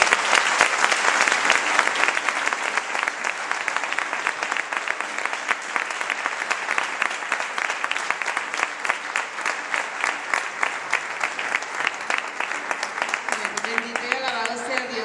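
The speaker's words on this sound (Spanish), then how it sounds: "ella sabía que ustedes iban a aplaudir" A church congregation at a Pentecostal celebration bursts into sustained applause, dense and loud throughout, with voices mixed in beneath the clapping.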